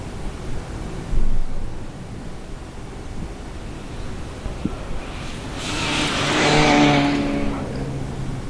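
A Subaru Legacy rally car builds toward the listener on a forest stage, its engine rising from a distant rumble to a loud, revving surge before easing off, with a brief burst of noise early on.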